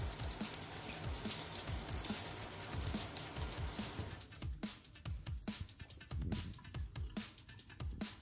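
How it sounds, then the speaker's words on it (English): Tap water runs steadily into a sink and down a drain fitted with a silicone hair catcher, a close splashing stream that thins to sparse drips and trickles partway through. "let the water run here, see if it drains"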